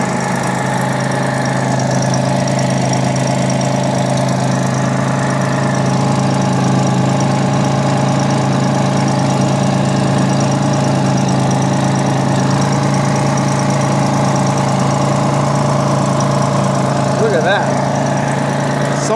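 A Jaguar XJ6 engine idles steadily and close by, a continuous low rumble with a faint whine that holds evenly from start to finish.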